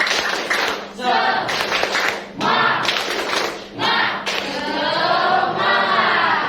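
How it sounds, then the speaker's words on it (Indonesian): A class of schoolchildren performs a spirit clap in a classroom, loud bursts of group clapping in several rhythmic phrases with brief pauses between them, close and filling the room. "Tepuk semangat."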